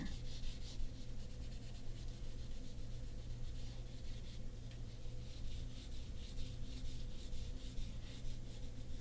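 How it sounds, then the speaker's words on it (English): A crayon or coloring tool rubbed repeatedly across paper while filling in a sandcastle drawing, a faint rhythmic scratchy rasp with quick strokes, no voice. "You can see how I try to go from the top to the bottom to color it in"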